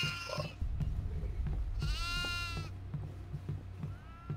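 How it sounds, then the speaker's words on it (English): A goat bleats twice in the game Devour, on its farm map, a wavering cry midway and a shorter one at the end, over a low droning background hum. "There's a goat down here. Uh, I hear him."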